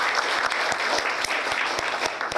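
Congregation applause during a Sunday morning church service, a dense burst of many hands clapping close and loud, with a few sharper individual claps cutting through the steady patter.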